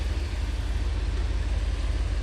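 The engine of a 1987 IROC car idles close by with a steady, deep low rumble and a very light throttle.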